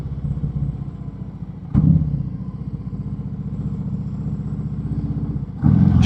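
A Harley-Davidson Sport Glide with a new exhaust pipe and fresh tune rumbles along on the road, its low throbbing note steady under wind, with two brief louder bursts as the throttle opens.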